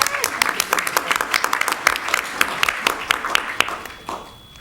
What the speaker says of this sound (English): Clap for our social workers.